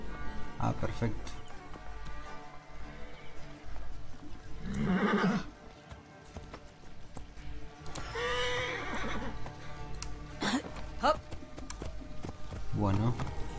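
Horse neighing and hooves in Assassin's Creed Origins, two loud whinnies a few seconds apart with clip-clop steps, set against game ambience and someone speaking Spanish.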